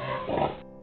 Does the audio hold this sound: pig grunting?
yes